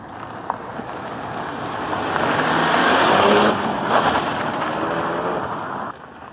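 A Ford Focus ST hot hatch accelerates hard through the low gears while spinning its tires, a rising engine roar with hissing tire noise that builds, peaks midway, then drops away toward the end.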